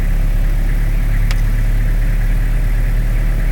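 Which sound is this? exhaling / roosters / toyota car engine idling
toyota car engine idling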